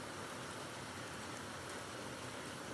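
Rain falls steadily in the BeamNG.drive driving game, a faint, even hiss of downpour throughout with no other sounds or voices.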